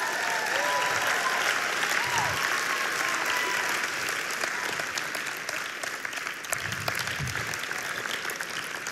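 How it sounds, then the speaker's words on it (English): Crowd applause at an evening church worship event, a steady dense wash of clapping that holds for the whole stretch with a few faint voices mixed in. "Give this warrior a huge round of applause."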